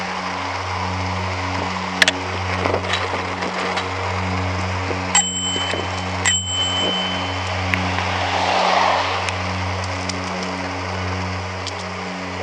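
Cars passing in city traffic heard while cycling on a tour of Victoria, a continuous engine rumble with a low hum, a few sharp clicks and a rising whoosh near the end.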